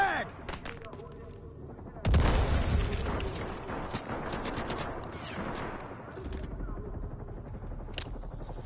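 A frag grenade goes off in a Delta Force Black Hawk Down firefight: a sharp loud blast at about two seconds, then ringing gunfire, scattered shots and chaotic battle noise trailing away, with brief voices mixed in.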